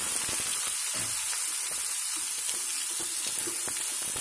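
Small chopped onions frying in seasoned oil in a pan, giving a loud, continuous close-up sizzle with faint stirring scrapes mixed in and no voices.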